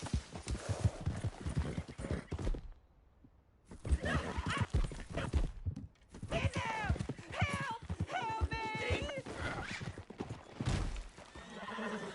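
Horse hooves clip-clop at a run while a horse neighs and whinnies several times in the video game Red Dead Redemption 2, loud and close, with a short quiet gap partway through.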